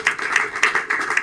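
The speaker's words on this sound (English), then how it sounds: "Come on, give them a round of applause." A studio audience at a live improv comedy show in Raleigh breaks into a short burst of applause, dense clapping that swells and pulses briefly with no voices over it.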